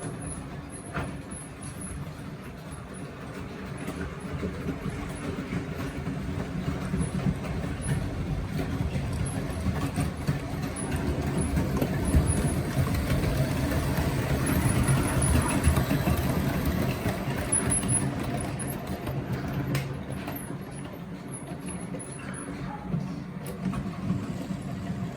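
A Hornby 9F Evening Star model locomotive with a Fleischmann-type motor runs steadily over track points, giving a continuous low motor hum and rumble that swells toward the middle and eases off.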